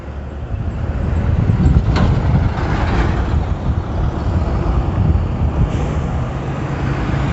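Steady road traffic rumbles past on a highway service lane along NH 334 in Modinagar, a broad continuous roar of passing vehicles with no talk over it.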